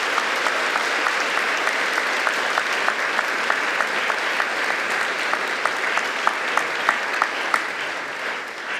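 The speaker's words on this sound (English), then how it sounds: "please join me in one last round of applause for our inductees" A large crowd at a school Cum Laude induction ceremony claps steadily and evenly, sustained applause with a few sharper individual claps standing out, no voices.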